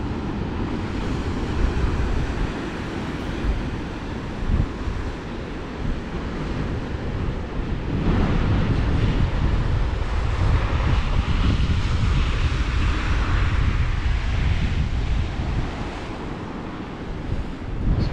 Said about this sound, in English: some good waves over there